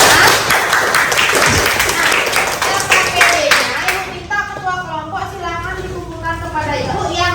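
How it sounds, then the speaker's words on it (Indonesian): Classroom clapping from a group of students, a loud, dense burst of hands that fades out after about four seconds, followed by a voice talking over quieter background. "tepuk tangan dulu buat kita semua"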